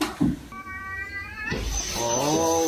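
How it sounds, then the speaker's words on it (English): A cat lets out drawn-out, tense meows and a rising yowl, fairly close, with a brief thump between calls. "angry cat"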